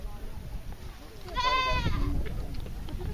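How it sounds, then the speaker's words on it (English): Goats bleat in a Maasai village, one clear wavering bleat rising above a steady murmur of background voices and outdoor noise, fairly close. "Also, the goats were really cute."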